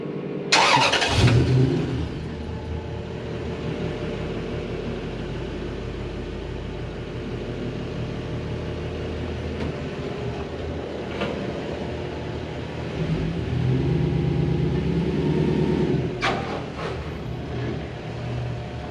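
A Ford Zephyr fitted with a Toyota 1UZ V8 starts up and settles into a smooth steady idle, close by, with a brief rise in revs toward the end and no talking.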